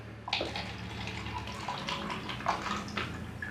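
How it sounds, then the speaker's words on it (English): Water poured from a tap into a small plastic cup, a light splashing trickle with a few brighter gurgles and spatters, close and fairly quiet, with no talking. "we're going to fill it with water"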